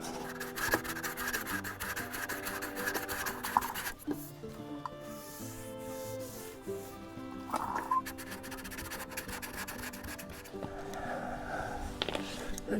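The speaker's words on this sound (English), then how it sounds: "I was down here sanding" Hand sanding on a 1966 Mustang body panel with a sanding block, repeated scraping strokes close by with brief pauses between passes.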